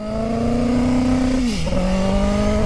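A car engine revs high and steady toward 8000 rpm, a strong sustained whine that briefly dips as revs fall, then holds again, loud and close with no talk.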